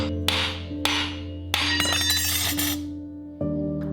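The back of a kitchen knife strikes a whole coconut in several sharp, hard knocks spaced apart, followed by a rapid cluster of cracking impacts as the shell splits, close and clear with no talk.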